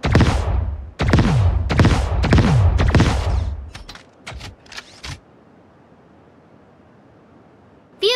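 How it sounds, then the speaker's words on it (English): The pulse arm cannon in the video game Sausage Man fires five heavy, booming blasts about a second apart. A string of quick mechanical clicks follows, then quiet, then a brief electronic chirp at the end. "Pulse arm cannon."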